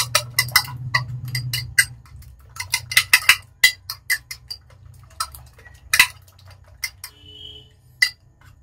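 Eggs being whisked in a bowl for a bread chicken omelette give quick, irregular metallic clicks and taps, close and crisp over a faint low hum, with no talking.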